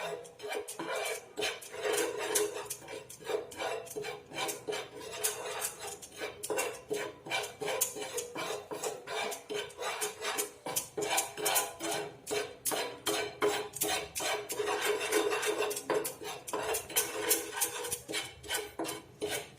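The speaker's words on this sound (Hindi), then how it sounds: "शुगर पिघलना स्टार्ट हो गई है, इसको छोड़ना नहीं है, कंटिन्यू चलाना है।" A spoon stirs melting sugar in a pan for homemade wax, scraping and clinking against the metal in a quick, repetitive rhythm, close and steady.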